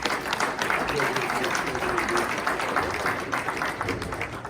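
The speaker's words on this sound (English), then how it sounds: "a nice round of applause for the General Manager of MAMA" A sustained wash of audience applause fills a hall at a Hall of Fame induction ceremony, steady and fairly loud for the whole stretch, with a murmur of crowd voices mixed in.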